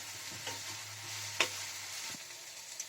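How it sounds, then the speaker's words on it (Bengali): Soft sizzling of chopped onions, ginger and garlic in hot oil, with a few stirring scrapes and a sharp clink midway, fairly quiet and steady. "আমার তেল গরম হয়ে গেছে, এবার আমি এতে দিয়ে দিচ্ছি পেঁয়াজ কুচি"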